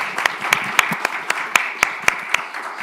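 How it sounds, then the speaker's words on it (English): Sparse, evenly spaced claps ring out for the speakers at an environmental policy panel on mineral management, a handful of individual hands beating a slow steady rhythm over a quiet room. "let me just thank all the speakers with a round of applause"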